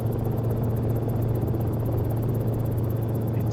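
A Cicare 8 helicopter in the X-Plane flight simulator drones steadily, its low rotor hum and whining turbine tone holding constant with no pauses or speech.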